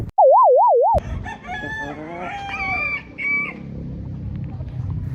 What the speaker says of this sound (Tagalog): nakita ko na yung gagawin nating broodstag